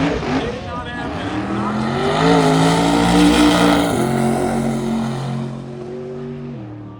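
Race car accelerating hard down a drag strip, a loud engine roar rising through gears then fading into the distance, with a voice talking over it.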